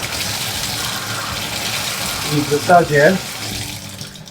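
Water from a bathroom tap or shower mixer runs in a short burst, with someone talking over it in Polish before and during the flow.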